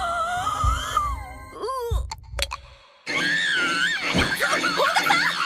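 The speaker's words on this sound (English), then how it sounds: "The variety that she has in her screams is ridiculous" An anime girl lets out a string of loud, high-pitched screams that shift wildly in pitch and shape, alternating with a woman's Japanese speech, near and alone with a brief drop to silence in the middle.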